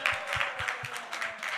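Brief scattered clapping from an audience at a National Action Network event, a few uneven claps close together rather than a full ovation, short and fairly light.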